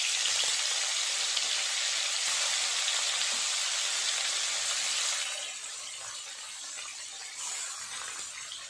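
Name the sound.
hilsa fish frying in hot oil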